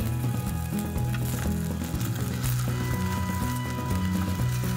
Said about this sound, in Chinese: 再给它煎一下，两面煎稍微浅黄。